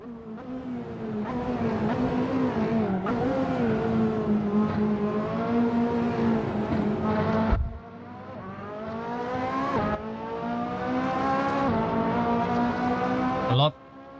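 A prototype race car's engine screams in the Assetto Corsa racing game, rising through the revs with sharp drops at a few gear changes, along with some tire squeal, loud and continuous for about fourteen seconds.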